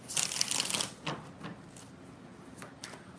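Tarot cards shuffled by hand in a close, loud riffling burst lasting about a second, followed by a few softer, scattered flicks and taps with no talking.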